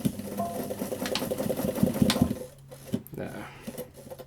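A sewing machine running a straight stitch on a tree strap, its fast mechanical whirr continuing for about two and a half seconds before stopping, with a voice talking over it.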